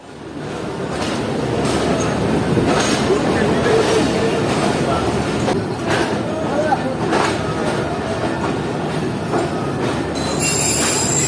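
The Khyber Mail passenger train from Karachi toward Lahore, hauled by locomotive AGE 306029, rumbles loudly with steady wheel-on-rail noise, rhythmic clacks and squealing wheels, with voices faintly mixed in.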